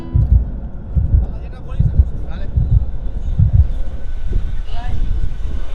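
A Howrah to Digha local train runs along the track, its wheels knocking in a steady, repeating rhythm of low clacks under a constant rumble heard from inside the carriage.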